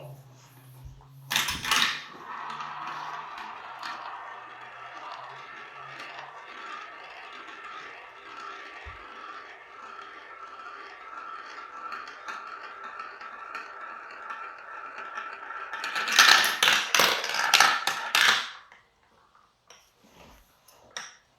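Marbles run down a plastic Marble Genius marble run, giving a long, steady rolling rattle of moderate loudness with clattering bursts at the start and near the end before it goes quiet.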